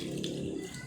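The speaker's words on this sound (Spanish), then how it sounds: "Les vamos a poner un poquito de agua." Water pouring into a container while making spicy lemon juice, a short steady splashing stream heard alone at moderate level.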